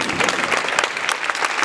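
Audience applause fills a charity gala hall, a dense, steady wash of many hands clapping close and loud with no talk over it.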